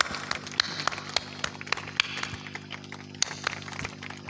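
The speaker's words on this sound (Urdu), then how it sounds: "تالیاں بجا دیں ذرا تھوڑا سا" Scattered clapping from an event audience at a sports complex gathering, uneven claps rising and falling for several seconds over a low steady background hum.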